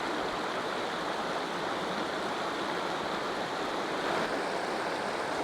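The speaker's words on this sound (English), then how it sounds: "So that's the river that runs away from it." A river flows away from a waterfall near Belfast, a steady close rushing of water with a dense, even roar and no voices.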